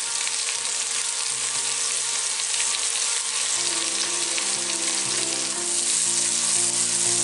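Meat browns in a hot frying pan for chili verde, giving a loud, steady, continuous sizzle with crackling throughout and no voices.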